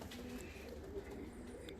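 Fancy show pigeons in a loft give low, soft cooing calls, faint and continuous under a steady background murmur.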